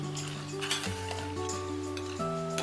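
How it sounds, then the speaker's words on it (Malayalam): Jaggery, about three-quarters of a kilo, boils in a pot for a traditional Kerala aval vilayichathu snack while a spoon stirs it, giving a steady bubbling sizzle with a few scraping clinks and a sustained tonal hum underneath. "ഇടയ്ക്ക് ഒന്നിങ്ങനെ ഇളക്കി കൊടുക്കണം."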